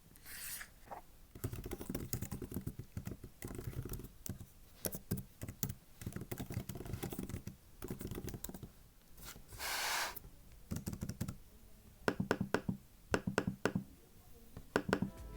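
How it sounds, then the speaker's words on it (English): Typing on an Apple Magic Keyboard for 11-inch iPad Pro: bursts of soft, rapid key clicks with short pauses between, close and fairly quiet, plus an occasional rustle. "Let's listen to how this keyboard sounds."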